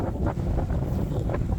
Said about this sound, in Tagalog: kasi napakalakas talaga ng hangin dito